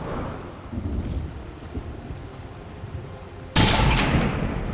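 A single gunshot in XCOM 2 War of the Chosen, a flanking shot: a sudden loud, sharp blast that breaks over a low rumbling game ambience and stays loud to the end.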